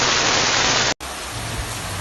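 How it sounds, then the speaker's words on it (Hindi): Heavy monsoon rain pours down in a dense, loud, steady hiss, briefly cut off and then resuming slightly softer, with no voices. "लेकिन अब फिर से ज़बरदस्त बारिश हो रही है"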